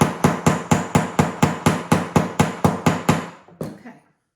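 Metal rivets being hammered to join two metal pieces in a cold-connection demo: about a dozen sharp, evenly spaced hammer strikes in a fast steady rhythm, close and loud, then a final softer blow before silence.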